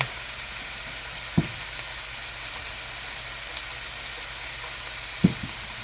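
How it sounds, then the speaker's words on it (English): Spaghetti sauce with milk simmers in a pan as a soft, steady frying crackle, with two sharp spoon knocks against the pan about four seconds apart and no talking. "And we're going to stir this."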